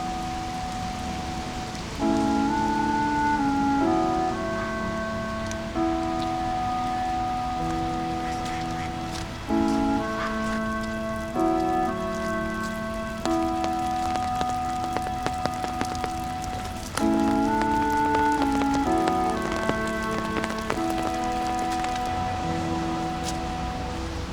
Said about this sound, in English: The rain's definitely not stopping today.